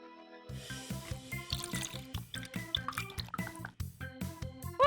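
Water is poured into a measuring cup, making a steady, close gurgling and splashing trickle that rises in pitch as the cup fills, with no voice over it.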